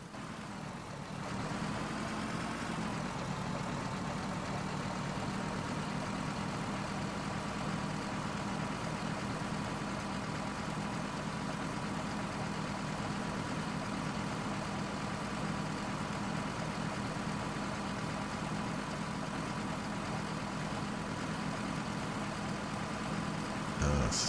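A tractor engine idles in a post-apocalyptic survival video game, a low, steady rumble that holds on without change for over twenty seconds, no voices over it.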